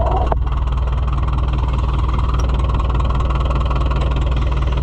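A white Iseki tractor engine idles steadily and loudly up close, a constant low throbbing rumble with a faint click near the start and no talk.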